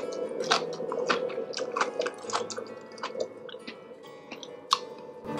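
Close-up crunchy chewing of a home-fermented vegetable from a canning pantry, with repeated crisp bites and wet squishy mastication in an irregular rhythm, loud and near with no talking.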